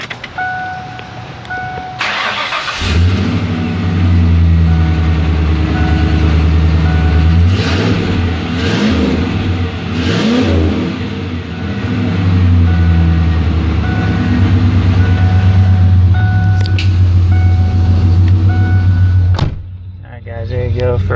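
A 2002 Pontiac Trans Am NHRA edition idles and revs inside a shop garage, its exhaust rumbling loudly with an echo off the walls, swelling through several rises before cutting off near the end.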